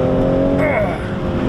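A Toyota Supra engine revs hard up close, a loud, steady rumbling roar with a brief crackle partway through, no voices over it.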